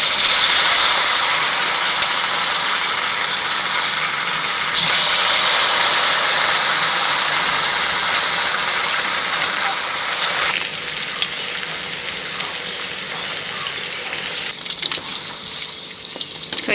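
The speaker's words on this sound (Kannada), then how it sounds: "ಡೀಪ್ ಫ್ರೈ ಮಾಡೋಣ." Chicken kabab pieces deep frying in hot oil give a steady, fairly loud broadband sizzle and bubbling that runs the whole time, dropping slightly in intensity partway through.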